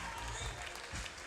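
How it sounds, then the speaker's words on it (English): At a FIBA 3x3 World Tour basketball event in Montreal, a crowd cheers and applauds as a fan wins a free t-shirt. The cheering is a brief, steady wash of noise lasting about a second. "as the crowd goes wild, as a fan wins a free t-shirt"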